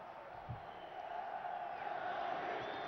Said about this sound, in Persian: تماشاگران هم یک صدا علی سامره رو تشویق میکنن